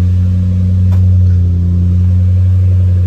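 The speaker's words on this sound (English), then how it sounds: "I do have a custom exhaust, that's why it is like this." Toyota 4.7-liter V8 with a custom exhaust, idling with a deep, steady low rumble throughout and little change in pitch, close and loud with no talking.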